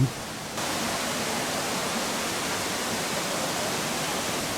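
Dense, steady rush of falling water, loud and constant, like standing near a waterfall in Yucatan, Mexico, with no voices.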